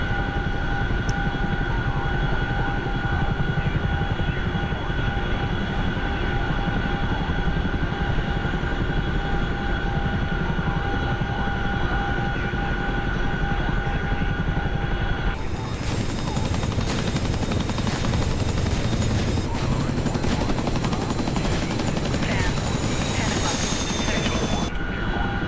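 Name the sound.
Chinook helicopter flying, from a video game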